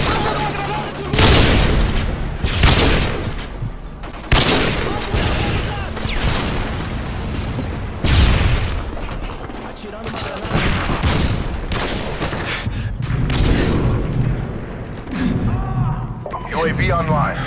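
Flashbang grenades and gunfire in Call of Duty Modern Warfare 2: repeated heavy booming blasts and rattling bursts of shots, loud and close, recurring every couple of seconds across a chaotic firefight with occasional voice callouts.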